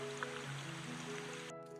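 A small waterfall on a rainforest hiking track in Mowbray National Park near Port Douglas, Queensland, pours with a steady, close rush of water that fills the whole moment without pause.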